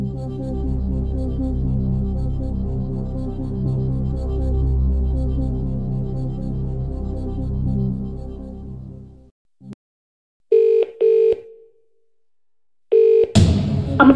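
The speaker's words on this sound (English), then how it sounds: "So, you want to phone a friend, that's not a problem. Just select who you want to call and we'll see if they can help you." In the Who Wants to Be a Millionaire game, a low droning music bed fades out, then the Phone a Friend call plays two short electronic telephone ring bursts separated by silence, loud and clear.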